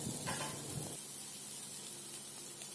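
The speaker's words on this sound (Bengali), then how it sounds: "ভেজে রাখা ফুলকপিটা আমি দিয়ে দেবো। সবগুলো ভালোভাবে নাড়িয়ে নিতে হবে।" Fried cauliflower and potatoes being stirred in a pan, a steady broadband sizzle with soft scraping, louder stirring in the first second then settling into a quieter continuous fry, no voices.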